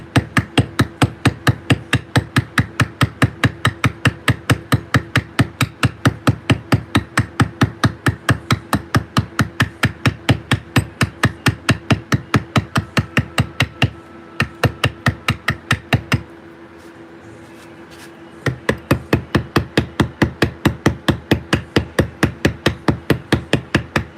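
Steady, rapid hammer blows on a chisel carving stone in a workshop, driven by short wrist movements; dozens of sharp, evenly spaced knocks, close and loud, with one brief pause partway through.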